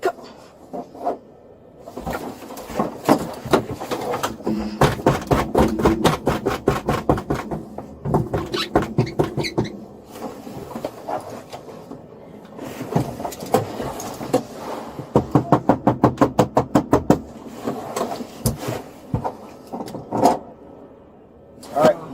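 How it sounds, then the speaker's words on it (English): Repeated thudding kicks against the inside of a police car door, coming in fast rhythmic bursts with pauses between, close and loud, with people talking around them. "Angelica, now safely inside a police car, started kicking the door like she was auditioning for a role in World's Stupidest Criminals."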